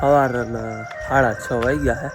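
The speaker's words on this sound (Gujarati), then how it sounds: "મોરલો તમને સંભળાતો હશે." A peacock calls in the early morning near a village temple, several loud harmonic cries in quick succession, with a person speaking alongside.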